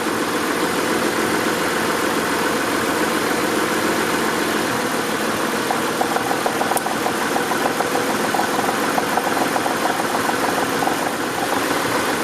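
A 1992 Acura Legend engine idling with fuel injector number 1 disconnected, producing a loud, close, steady idle with a faint irregular ticking, heard alone without voices.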